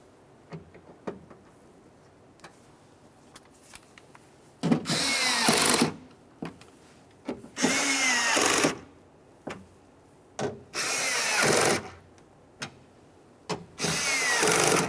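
Power drill driving window regulator mounting bolts on a 2011-2020 Toyota Sienna door, heard as five loud, close bursts of a whirring motor lasting about a second each, separated by quieter clicks and handling of hardware.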